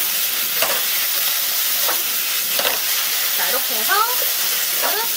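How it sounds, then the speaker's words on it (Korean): Bamboo shoots stir-fry in a wok for a Chinese cooking exam dish, a loud, steady sizzle and hiss with periodic scraping tosses of the spatula throughout, no voices. "죽순을 넣어줍니다. 충분히 볶아주세요."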